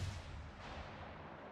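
Naval guns booming in World of Warships Legends while firing on a Bismarck battleship, a single deep, rumbling salvo that fades out over a second and a half.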